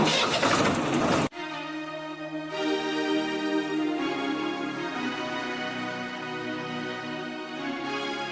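A tractor engine cranks with a brief broadband burst, then catches and settles into a loud, steady mid-pitched idle with strong harmonic rumble, heard close and alone for several seconds.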